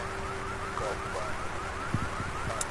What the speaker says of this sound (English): My goodness, that alarm is loud.